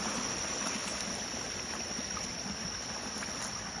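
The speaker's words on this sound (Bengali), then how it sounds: "পানি নামছে" Steady running water trickles and streams through a Ugandan swamp forest, a continuous close wash with faint high insect or bird tones on top and no talking.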